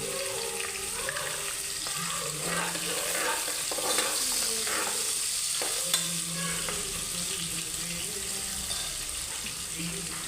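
Watery onion paste sizzling and bubbling in a hot pan while being stirred until the water cooks off, a continuous frying hiss with occasional scraping, a voice speaking softly over it.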